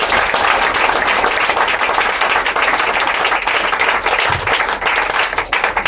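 A congregation at a prayer camp service bursts into loud sustained applause, dense clapping from many hands continuing steadily throughout without a break.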